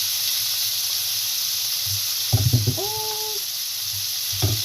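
Tomatoes sautéing with garlic in a frying pan give a steady, close sizzling hiss throughout, with a few brief voice sounds in the middle and near the end.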